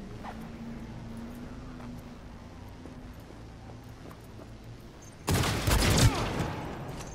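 A short burst of gunfire from Cyberpunk 2077 breaks in near the end after a long stretch of quiet game ambience with a low hum, loud and sudden for about a second.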